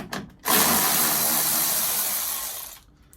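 A power tool spins off bolts on the top of a 70 series Toyota LandCruiser grille, giving one loud, close whirring burst of about two seconds with brief clicks before and after.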